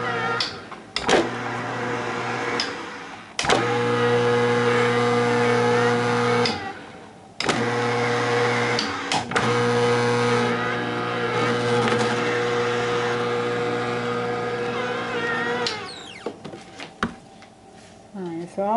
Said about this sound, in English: Alright, it's all done